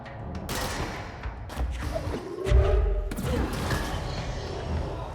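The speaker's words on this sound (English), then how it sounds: "Oh jeez, grenades. They take a while to explode." A heavy, muffled thud of a grenade blast in the video game Control, rising out of a busy, noisy game mix, followed by a second, softer impact.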